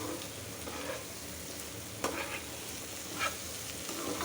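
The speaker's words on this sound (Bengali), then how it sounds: "পটলগুলি দিয়ে একটু নাড়াচাড়া করে নিব" Pointed gourd (potol) frying in hot oil, a steady close sizzle with occasional scraping clicks of a spatula stirring the pieces around the pan.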